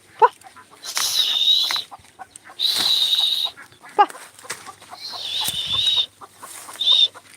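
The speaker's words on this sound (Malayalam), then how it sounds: "കോഴിയുണ്ട് എല്ലാം" Chickens cluck in loud, repeated bursts, with several close squawking calls coming in clusters and short gaps between them, and no talk over them.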